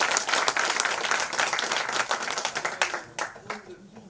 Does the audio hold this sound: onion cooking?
no